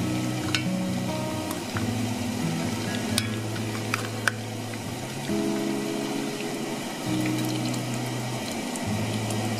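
Meat frying in hot oil on a stove for a Ghanaian dish, a steady close sizzle and crackle with scattered pops over a low, even hum, and no talking.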